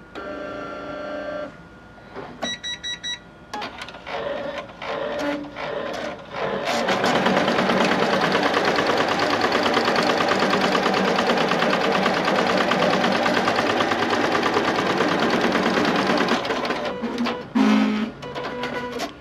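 An embroidery machine stitches a placement outline on fabric: a few stop-start bursts, then a steady, loud, whirring run of rapid needle strokes that carries on for over ten seconds before slowing to a halt.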